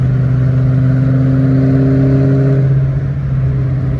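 A catless Dodge Challenger R/T idles loudly with a deep rumbling exhaust and rev, steady and close, easing slightly near the end.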